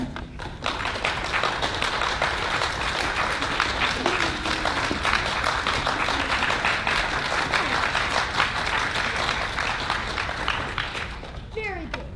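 A theatre audience in Denver applauds loudly and steadily for about eleven seconds, dense clapping throughout before it tapers off at the end.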